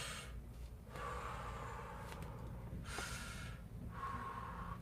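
Slow yogic breaths, audible inhales and exhales in a quiet room, soft and close with gentle rhythmic rises and falls, no talking.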